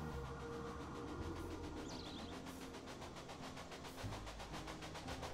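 A train rolls past in the Railway Empire game with a steady rumble and rhythmic clickety-clack of wheels on rail joints, continuous and fairly loud throughout, with a brief high whistle-like squeal partway through.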